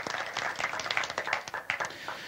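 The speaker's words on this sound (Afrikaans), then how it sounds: "Kom ons geef hom 'n hande klap." A church audience claps hands in a short burst of close, dense applause with no talk over it.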